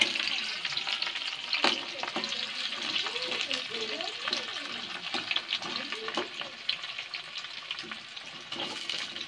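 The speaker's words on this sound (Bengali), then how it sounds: "পেঁয়াজটা লাল লাল করে ভেজে নেবো।" Onions frying in oil in a wok, a steady sizzle with stirring scrapes and occasional clinks, close and continuous, while a person talks faintly underneath at times.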